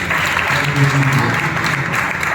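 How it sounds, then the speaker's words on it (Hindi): A Sunday church congregation claps in praise, a loud, dense burst of many hands with some voices faintly audible beneath the clapping. "ताली बजा के प्रभु को महिमा दें"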